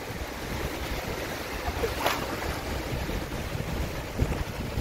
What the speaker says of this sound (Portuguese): O vento faz ter as ondas